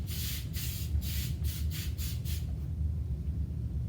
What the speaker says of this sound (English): take some non-stick cooking spray and spray the bottom of that